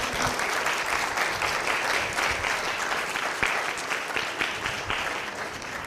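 Audience applause for faculty at a college fall convocation, a dense, even wash of many hands clapping that holds at a steady level from start to finish.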